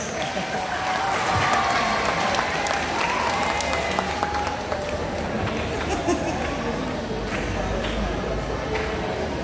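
Applause from high school students at a reaction-shooting sports outreach session, steady dense clapping throughout with crowd chatter and voices mixed in.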